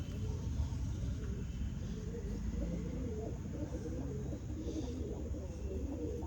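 Pigeons coo in a low, continuous murmur at a Punjabi pigeon sale, a dense steady rumble of many birds close by with no clear breaks.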